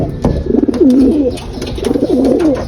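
Close, loud racing pigeon coos in two rolling phrases, soft throaty warbles with light rustling and clicks around them.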